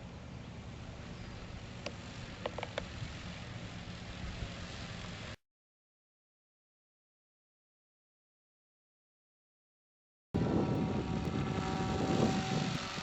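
A Hawkeye RC camera plane glides overhead with the throttle down, giving a steady, fairly faint airy whir of propeller and wind. The sound breaks off into silence midway, then comes back louder and closer.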